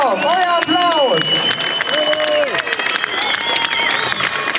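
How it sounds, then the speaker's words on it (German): An outdoor crowd at the Kawasaki Days show in Speyer claps and cheers for stunt rider Axel Winterhoff, the applause mixed with whistles and a voice over the loudspeaker. "Axel Winter, euer Applaus."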